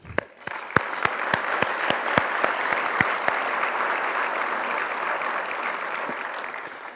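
An audience at a Chamber of Commerce-sponsored civic address bursts into applause, a few sharp early claps swelling into sustained, even clapping that gradually thins toward the end.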